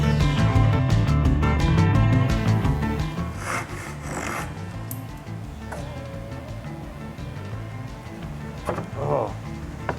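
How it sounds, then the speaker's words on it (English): A Japanese pull saw rasps through a wooden tenon in a run of quick, even strokes, then fades into softer scraping and a few sharp knocks, with a voice talking in the background. "this saw is because it cuts on the pull stroke"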